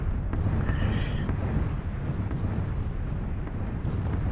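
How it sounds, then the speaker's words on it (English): In PUBG, distant explosions rumble as a deep, continuous booming roar with dull thuds rolling through, loud and heavy in the low end. "And we're now running towards the explosions."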